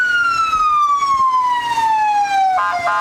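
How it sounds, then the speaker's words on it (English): Loud emergency siren on a vehicle in a Christmas parade, one long descending wail that falls steadily before a brief warbling burst at the end, close and dominant over street noise. "That's a loud siren."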